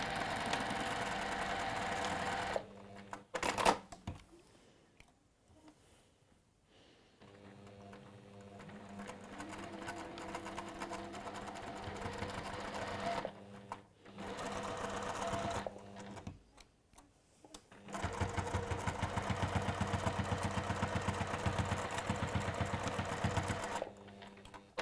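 Sewing machine stitching a textile seam in bursts, a steady mechanical whir running for several seconds at a time with short pauses and quiet handling between runs.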